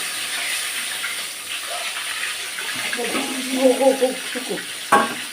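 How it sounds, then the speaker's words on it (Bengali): Boneless rohu fish frying in a kitchen pan, a steady hiss and sizzle throughout with some bubbling and a sharp clatter near the end, while people talk over it. "ভাজাটা প্রায় শেষের দিকে।"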